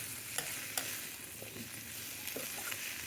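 Tender okra (lady's finger) sizzles steadily in a hot pan while a utensil stirs it, with occasional soft scraping taps over the constant frying hiss, heard fairly quiet and close.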